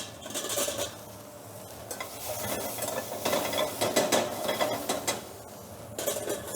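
Onion and mushroom cook in a non-stick pan, a moderate sizzle mixed with repeated scraping and clinking of a utensil against the pan.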